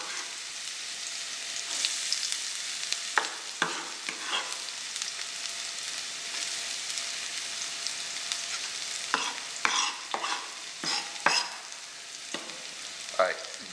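Onion fries in a pan for a curry of pigeon peas with cassava. A constant close sizzle is broken by sharp scraping stir strokes, with nobody talking.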